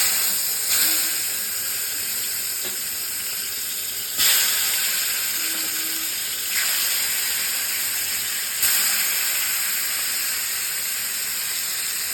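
Pieces of boal fish frying in hot oil give a steady, loud sizzling hiss with a few sharper surges of crackle spaced through it, heard alone with no talking.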